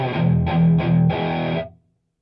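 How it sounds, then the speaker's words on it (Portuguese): Dry distorted electric guitar run through pedals with no delay, reverb or modulation, playing a few loud sustained chords in short bursts before cutting to silence. "a proposta desse vídeo é apenas construirmos uma distorção seca, sem delay, sem reverb, sem nenhuma modulação"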